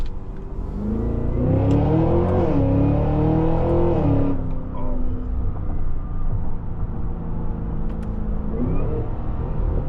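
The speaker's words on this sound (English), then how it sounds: "Look at the supercharger. Yeah, you can hear that." A 2026 Cadillac Escalade-V's supercharged engine accelerates hard, a loud, steady roar with rising and falling pitch and supercharger whine, eases off partway through, then builds again near the end.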